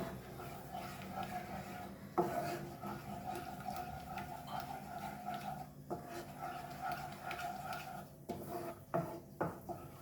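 A spoon clatters and scrapes in a pan while pasta is mixed with east Indian bottle masala, giving irregular metallic knocks and stirring noises at close range, with a few sharper clanks near the end.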